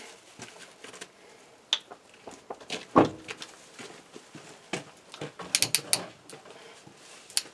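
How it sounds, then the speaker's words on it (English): Metallic clicks, ratcheting and clattering as a piston ring compressor is fitted over a piston during an International C135 engine rebuild, close and irregular with a sharp knock near the middle and a burst of light ticks later. "Put in our piston ring compressor."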